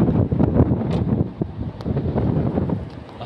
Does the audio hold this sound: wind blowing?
yes